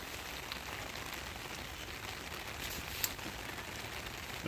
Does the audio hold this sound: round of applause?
no